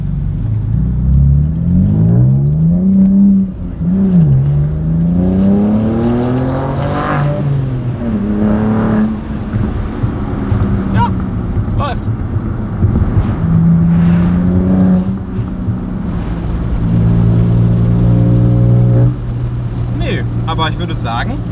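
An American-spec BMW G80 M3 accelerating on the road, its engine note rising and falling through repeated revving sweeps, loud and close, with people talking over it.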